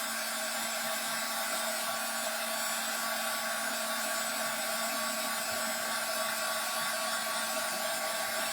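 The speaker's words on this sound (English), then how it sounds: "So I am just drying the tin can real quick" A hair dryer blows steadily and loudly on a tin can for the whole stretch, a constant whooshing hum with no breaks or talk.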